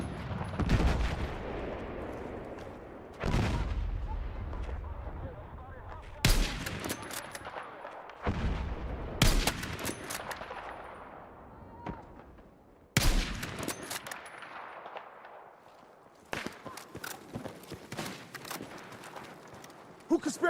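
Sniper rifle shots in an online first-person shooter, loud single cracks spaced several seconds apart, each followed by a long fading echo, with gameplay noise between.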